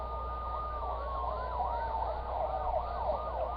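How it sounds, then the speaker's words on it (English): Emergency vehicle sirens wailing in rapid yelp cycles while racing through the street toward the World Trade Center on September 11, a sustained siren tone layered underneath, heard at moderate distance over low traffic rumble. "All you hear is sirens racing by me, and they're going toward the Trade Center."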